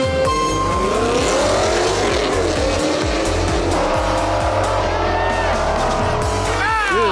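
Custom Ford Mustang race cars roar as they accelerate hard, their engines rising and dropping with each quick gear shift, and tires squeal near the end. The sound is loud, close and continuous, with a voice briefly audible over it.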